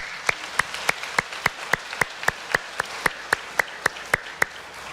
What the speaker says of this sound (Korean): 우리 하나님께 박수로 영광 올려드리겠습니다